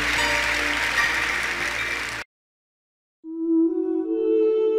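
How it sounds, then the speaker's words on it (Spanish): A church congregation applauds after a sermon, a dense burst of clapping that cuts off abruptly and is followed by a sustained organ-like musical tone. "Un buen aplauso al Señor."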